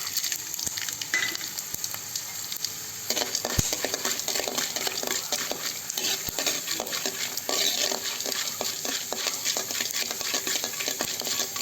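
Peanuts and urad dal roast in a pan over low heat, with a continuous dry sizzle and frequent scraping clinks of a spatula stirring against the metal.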